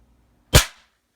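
A single sharp gunshot punches through a Samsung laptop, one loud close crack that decays quickly, with no talking.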